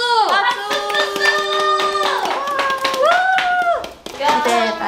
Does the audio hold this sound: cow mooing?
no